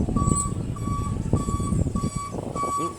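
A vehicle's reversing beeper sounds repeatedly in a steady rhythm, about five beeps, over low engine rumble and background bustle near the pier at Weston-super-Mare.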